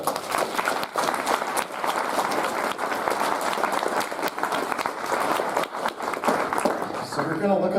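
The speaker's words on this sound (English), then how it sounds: "So, so another round of applause here, really." A crowd applauds throughout a Saturday night keynote at the NESC 2026 conference, with dense, sustained clapping from a large audience and a voice speaking faintly beneath it.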